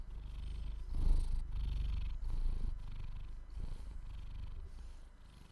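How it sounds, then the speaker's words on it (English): A neighbor's cat purring steadily up close, a low continuous rumble with slight rises and falls in rhythm and nothing else over it. "This is the neighbor's cat."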